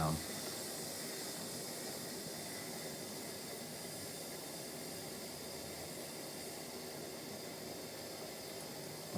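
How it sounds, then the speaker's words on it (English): A steady, faint hiss from a steamer runs unbroken for about nine seconds as it shrinks tubing onto leadcore fishing line for a carp helicopter rig. "let's just make a bit more steamy noise. And I'm just going to steam that bit of shrink tube down."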